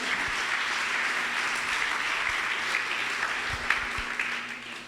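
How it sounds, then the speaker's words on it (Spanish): A church congregation applauds steadily for several seconds, a dense, even wash of clapping with occasional louder claps and low thumps, fading slightly at the end. "dale un aplauso a Jesús."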